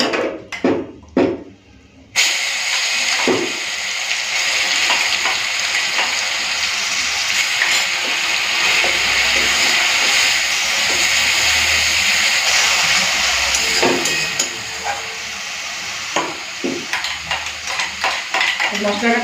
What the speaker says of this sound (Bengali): চলুন তো এখন মশলা বাটাটা দিয়ে দেবো